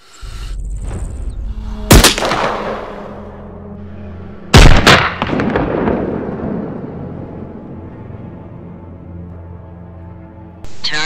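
Two heavy sniper rifle shots a few seconds apart, each a sharp loud crack followed by a long rolling echo that fades into a low rumble, with distant background noise in between.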